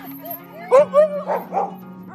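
Sled dogs at a wilderness retreat near Fairbanks bark and yip in several quick, loud calls close by, with a whimpering note and a steady hum underneath.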